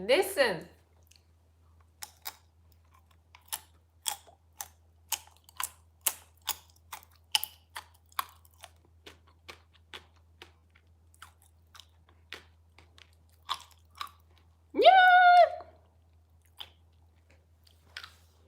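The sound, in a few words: chewing popping candy chocolate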